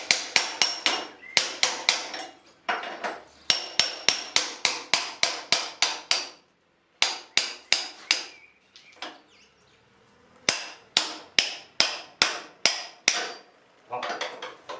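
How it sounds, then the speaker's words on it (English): A hammer repeatedly strikes the axle of a Suzuki GSXR 600 SRAD motorcycle to drive it out, producing sharp metallic blows in fast, regular runs of about a dozen hits, separated by brief pauses. "Just going to try and tack the axle out now."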